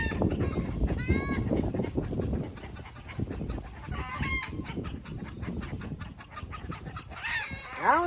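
Chickens at a backyard raised bed cluck and squawk restlessly in bursts, some calls rising into loud honking cries near the end, with scattered rustling between them.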